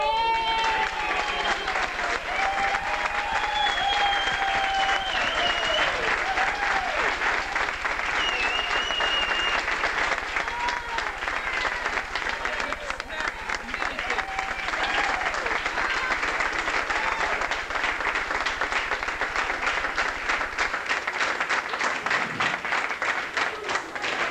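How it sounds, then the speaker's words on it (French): Sustained audience applause fills the room at a canoe club trophy presentation, dense steady clapping from a crowd that holds evenly for over twenty seconds before stopping abruptly near the end. "quelqu'un qui mérite une bonne main, une sérieuse main d'applaudissement"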